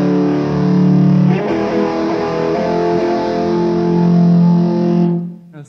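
A sustained distorted electric guitar plays in harmonised thirds, loud and ringing with a shift in notes partway, then cutting off into a short decay.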